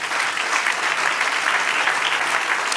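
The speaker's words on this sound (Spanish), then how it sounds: "Dar un aplauso al Señor." A church congregation claps together during an evening Spanish-language sermon, a loud, sustained and uniform burst of applause that continues without pause across the whole moment.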